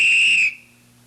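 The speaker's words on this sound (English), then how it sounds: "I hurt my ear with the whistle." A whistle blown loudly indoors at a Christmas party gives one shrill, piercing blast for about half a second, then cuts off abruptly into near silence.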